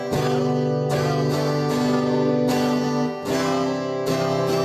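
Acoustic guitar strummed in a steady pattern of quarter and eighth notes, each chord ringing with bright sustained harmonics, played close and clear with no voice.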